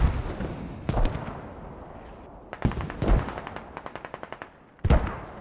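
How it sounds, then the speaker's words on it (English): Mortar impacts and gunfire in the video game Squad: several sharp, loud blasts spaced a second or two apart, with a quick run of evenly spaced rifle shots between them, echoing over a dim background. "mortars having an impact on Hem Farm and the Russians"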